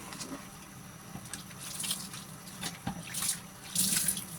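Water runs from a kitchen tap while nilagang baboy is being cooked, a faint, soft splashing stream with intermittent clinks and drips, quiet and close.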